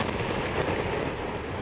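A bomb blast in southern Lebanon gives a dense, sustained rumbling roar that fills the whole stretch with broadband noise, loud and continuous, with no voices.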